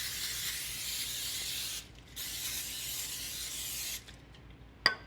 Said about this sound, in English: I'm just going to spray my pans here with some oil spray.